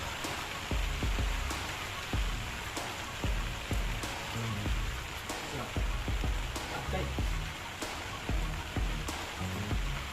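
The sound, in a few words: heavy rain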